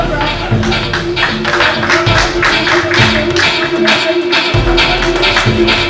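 An audience at a media conclave panel session applauds, loud and sustained rapid clapping from many hands with a voice partly audible beneath it.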